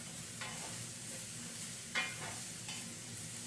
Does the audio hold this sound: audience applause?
no